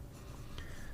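Broad number 8 nib on a fountain pen gliding across paper with a wet-flowing ink, a soft, steady scratchy rasp heard close up without pause and alone, with no voices.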